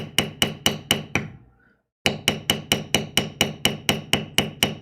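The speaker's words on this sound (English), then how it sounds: "Let me bevel this one line on this so maybe people can see." Steel beveler hammered along a line on tooling leather, sharp rhythmic strikes: six evenly spaced taps, a short pause, then a steady run of about a dozen more, close and loud with no talk.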